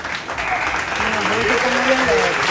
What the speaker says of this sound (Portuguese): bota palmas pra aquela gravada aí, vai.